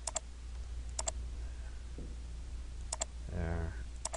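A computer mouse clicking during a Rhino CAD modelling session, a few sharp double clicks spaced apart, quiet and close, with a brief bit of faint talk near the end.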